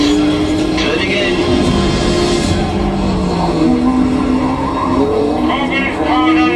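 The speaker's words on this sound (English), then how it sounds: "Hard on the brakes. Turning in." A race car braking hard and turning into a corner at Kyalami Grand Prix circuit during a TopGear Live show, loud engine note dropping in pitch with tyre squeal and skidding, under an excited commentator's voice.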